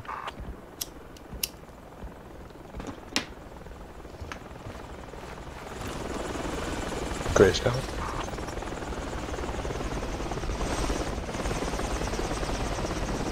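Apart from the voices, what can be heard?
helicopter flying overhead in a video game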